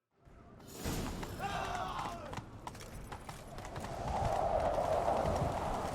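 Galloping horse hooves in The Witcher 3: Wild Hunt thud along steadily, swelling louder toward the end, with whooshing movement and brief voices mixed in.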